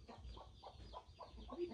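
A rooster gives a run of soft, rhythmic clucks, fairly faint and low in level, with no talking over it.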